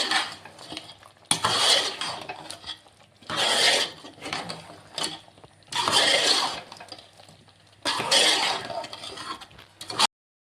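Chicken curry coated in ground masala is stirred in a pot, four bursts of scraping and clinking of a utensil against the metal separated by quiet pauses, fairly close and with no speech.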